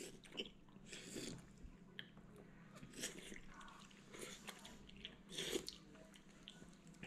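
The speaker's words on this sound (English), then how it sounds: "now we about to try this bomb delicious cup of noodle soup" Someone eats a cup of spicy noodle soup up close, with faint wet slurps, bites and chewing in irregular bursts over a quiet background, soft and intimate.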